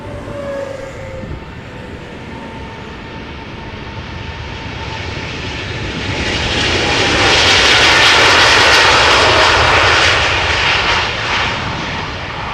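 Jet airliner departing from the Polderbaan runway at Amsterdam Schiphol, a loud continuous engine roar that swells as the aircraft passes nearest, then slowly fades, with no talk.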